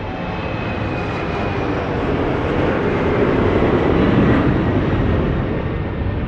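TP1138, an airliner taking off from Lisbon Airport bound for Malaga, heard as a steady, loud broadband jet engine roar that holds constant, swelling slightly, with no voices.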